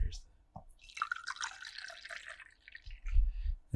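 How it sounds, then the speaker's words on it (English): Throat coat tea being poured into a cup, a short liquid trickle and splash close by, with a voice talking over part of it. "There's the pour."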